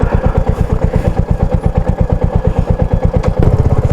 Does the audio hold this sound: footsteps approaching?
no